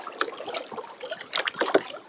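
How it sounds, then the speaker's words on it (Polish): Small wind-driven waves splash and slap against a canoe or kayak on the Vistula river, sounding as close, irregular trickles and splatters with no talk. "Nawet się pojawiły fale na Wiśle."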